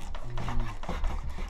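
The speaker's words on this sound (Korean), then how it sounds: "이제 씻은 장어를 먹기 좋게 자르고." Washed, somewhat dried sea eel is cut into pieces in a kitchen, giving a rough rasping, rubbing texture with uneven strokes, close and continuous.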